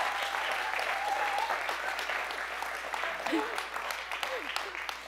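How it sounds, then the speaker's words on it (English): A church congregation claps together in applause during a worship service, a dense sustained patter filling the room, with some voices talking and calling out over it. "Let's give God a clap."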